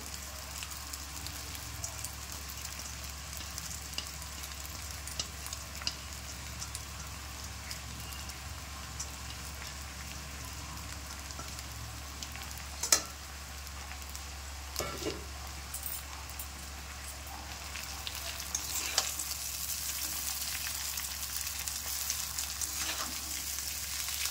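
Boiled chowmein noodles fry in a pan with onions, a soft steady sizzle under a low hum, broken by a few sharp scraping and tossing knocks, fairly quiet and without speech.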